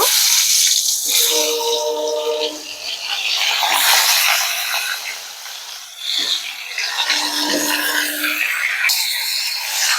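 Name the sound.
green mango pieces added to hot oil with fried spices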